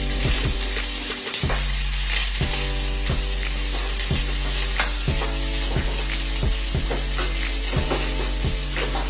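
Onions going into a hot pan for cornbread dressing, heard as a loud, close, continuous sizzle with regular rhythmic scraping strokes and a steady low hum underneath.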